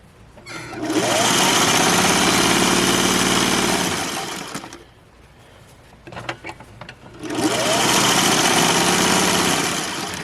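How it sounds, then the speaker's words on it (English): A sewing machine stitches cushion fabric in two long, fast runs with a close, steady mechanical whir, separated by a short quiet gap holding a few handling clicks. "this is going to all be sewn down"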